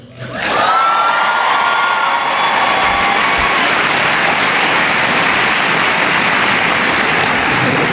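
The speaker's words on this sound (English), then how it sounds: "That was almost a Coach Harbaugh scale applause." A large symposium audience bursts into loud, sustained applause with cheering and whistles, the clapping rising quickly into a dense, roaring wash that holds steady.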